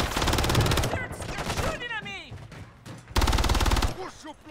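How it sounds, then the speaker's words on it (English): Gunfire in the Call of Duty Warzone video game: loud bursts of rapid automatic fire open and close the stretch, with a quieter gap of scattered game effects between them. "that guy's shooting my body over there"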